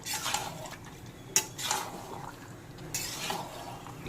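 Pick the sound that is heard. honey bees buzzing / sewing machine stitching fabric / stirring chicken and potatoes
stirring chicken and potatoes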